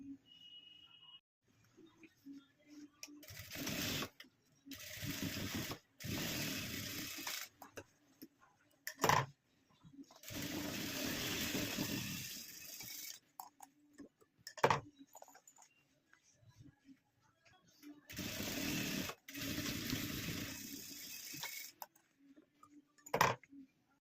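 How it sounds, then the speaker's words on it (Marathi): A sewing machine runs in several short bursts, stitching the corners of a fabric zip pouch, with a steady mechanical whirr that stops and starts between brief quiet gaps and occasional clicks. "तर जरा दोन्ही कोण आपण टिपा मारून घेऊया"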